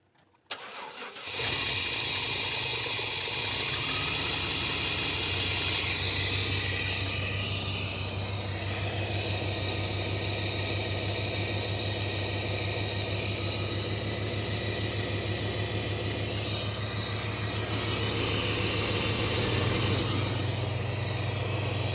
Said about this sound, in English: So go ahead and try to start her again.